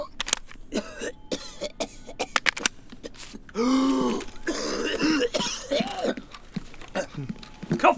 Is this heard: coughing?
yes